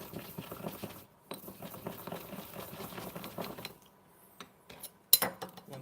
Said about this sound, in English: chili in and smash it up